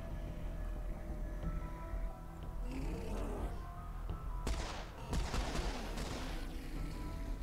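Second pistol firing in the video game Serious Sam 4: a few sharp, loud shots that crack out in quick succession midway through, over a low game ambience with no talking.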